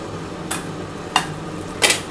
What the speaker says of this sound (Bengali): আমি এবার ঢাকাটা খুলে দেখি